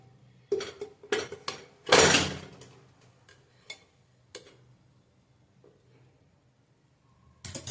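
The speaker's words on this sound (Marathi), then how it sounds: "डबा त्यात ठेवून घेऊया. ह्यात एक मी जाळी टाकले." Metal clinks and clatters as a cake tin is set onto a wire rack inside a pressure cooker for steaming a semolina cake, a few sharp knocks followed by quieter rattles and a final burst of clatter.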